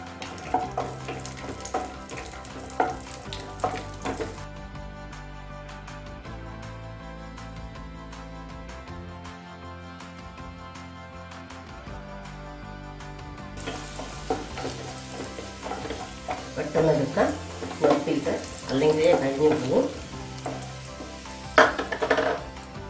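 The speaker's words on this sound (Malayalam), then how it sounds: "നെയ്യ് ഒഴിച്ചിട്ട് മുന്തിരിങ്ങയും കപ്പലണ്ടിയും" Raisins and peanuts frying in ghee for bread halwa, a steady close sizzle with occasional stirring scrapes and clinks of the pan, louder toward the end, with no talking.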